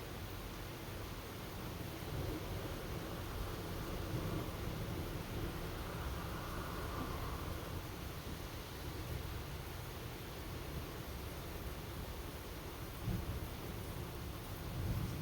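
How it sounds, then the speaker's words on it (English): Steady rain hisses without a break, with a low rumble of thunder rolling underneath. The storm runs as a constant, even wash of noise for the whole stretch, with no talking. "With all of the rain sounds and thunder sounds in the background"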